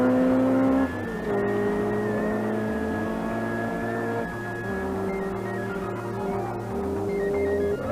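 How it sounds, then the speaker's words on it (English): A rally car pulls away at the start of the 1983 Rally New Zealand, its engine revving loud and close, then climbing in pitch through the gears in a rough, pulsing drone. "In the tension of the rally start, not everybody pulls away as smoothly as they would like."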